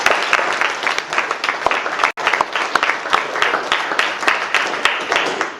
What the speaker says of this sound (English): if we could just have a round of applause for both of our speakers